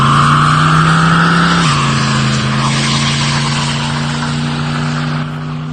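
A 1996 Chevy S-10 pickup with a swapped-in 350 V8 holds a loud, steady rumble close by, the pitch stepping down partway through, then continuing as a sustained roar with no voices.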